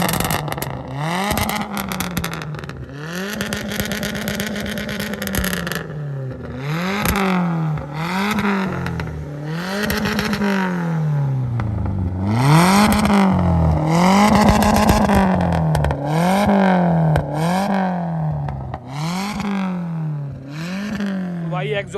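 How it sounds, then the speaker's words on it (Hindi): Modified Hyundai i10 with a loud valvetronic exhaust revving repeatedly, each blip rising and falling in quick succession, close and powerful, with a voice talking over parts of it. "सो गाइस वेल्वोट्रॉनिक एग्जॉस्ट एंजॉय करो।"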